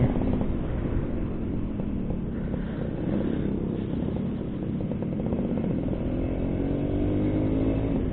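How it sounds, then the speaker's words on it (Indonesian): A 1989 Suzuki A100 motorcycle engine, warmed up, runs with a steady buzzing two-stroke drone and a slight rise in revs toward the end, close and fairly loud with no voices. "Ini motor udah panas, jadi asik banget."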